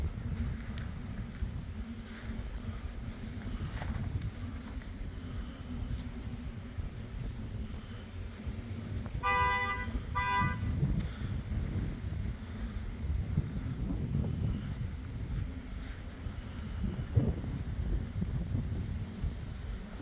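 Steady outdoor wind on the North Slope at Nuiqsut, Alaska, a continuous low rumbling buffet across the whole stretch, close and fairly loud, with a brief tonal burst partway through and no speech.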